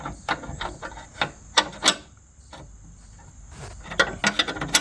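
Ratchet wrench tightening a brake caliper bolt on a 2010 Ford Focus, close, irregular bursts of rapid clicking strokes with short pauses between, over a faint background hiss.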